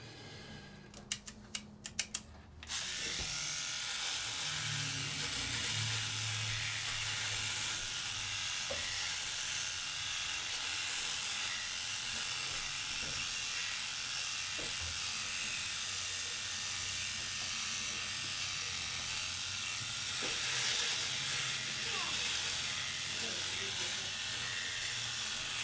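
A Philips Norelco Shaver 9400 electric shaver buzzing steadily and close throughout a shave, after a few brief clicks at the start, with a faint voice underneath.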